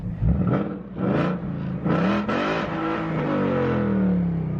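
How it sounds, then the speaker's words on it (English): A car engine is revved hard several times in quick succession nearby, each rev rising and falling in a loud roar before the engine holds a higher, sustained drone. "but I'll give it a couple of revs."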